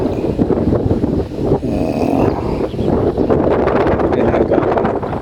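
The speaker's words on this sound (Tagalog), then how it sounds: "Banggaan ng hangin po yan, banggaan ng hangin po." Strong wind roars and buffets steadily, with rough gusts rising and falling throughout, no voices.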